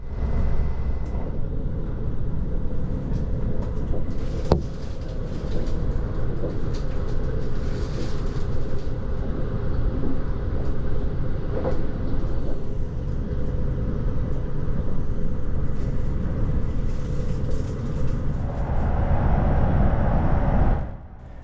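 Interior of an NS ICNG intercity train in second class between Amsterdam and Breda, a continuous loud low rumble and rolling rattle with occasional clunks, holding steady until it cuts off sharply at the end.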